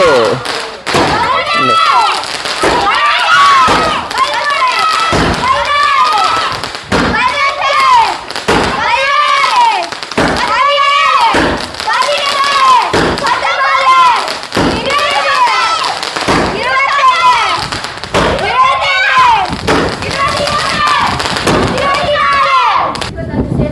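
Close, loud Diwali firecrackers crackle continuously, with heavy booming bursts repeating about every couple of seconds.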